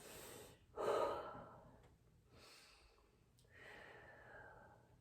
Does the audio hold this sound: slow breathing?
yes